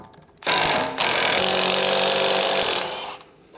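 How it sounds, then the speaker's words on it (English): Impact gun on a BMW E39 M5 rattles loudly in two close bursts, a short hammering burst followed by a longer sustained run before cutting off. "you should really use impact sockets on your impact gun"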